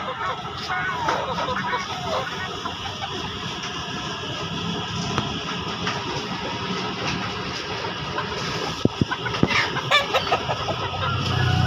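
Village chickens at a poultry market in Makassar cluck and crow amid a busy, noisy background, with scattered calls over a steady hum and a few sharp knocks near the end.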